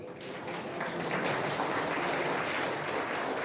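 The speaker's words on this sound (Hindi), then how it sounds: "ताली तो बजाओ।" An audience at a Brahma Kumaris spiritual talk in Barnpur, West Bengal, claps together in a steady, even wash of applause that stays fairly soft and continuous throughout, with no talking.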